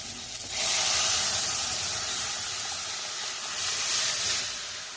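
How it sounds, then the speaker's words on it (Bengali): Boiled dal poured into bitter gourd frying in a pan gives a loud, broad sizzling hiss that swells as the liquid hits, then settles into steady bubbling steam, with no talking. "সেই ডালটা এই উচ্ছের মধ্যে ঢেলে দেব"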